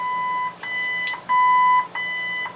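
A 1947 Ford original AM radio gives a run of electronic beeps while its setting is changed: steady tones separated by short gaps, with a brief click between them, close and clear.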